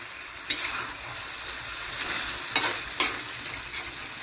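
Chicken sautés in a pan with yogurt and onions, a steady close sizzle with a few sharp spatula scrapes and clacks as it is stirred.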